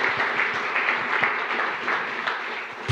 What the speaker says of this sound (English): give the Lord a round of applause in this place